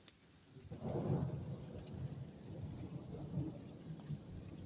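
A deep rumble of thunder follows a lightning flash, rolling on for a few seconds under steady rainfall in the open air.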